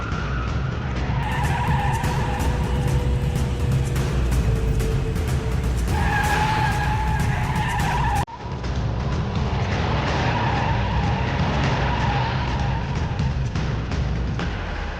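A car skids during reckless driving, tires squealing loud and continuous over a roaring engine, with a sharp break partway through before the screech and engine noise resume, no talking.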